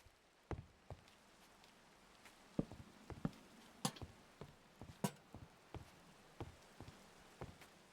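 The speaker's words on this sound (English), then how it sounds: "Did it just rain through the roof?" Rain in a video game falls lightly and sparsely, scattered faint ticks and taps landing at irregular intervals over a low steady hiss, with no talk.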